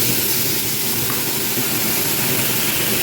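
Taro leaf paste going into hot oil in a pan already holding dried chillies and nigella seeds: a steady, loud, broad sizzling hiss that holds unchanged throughout.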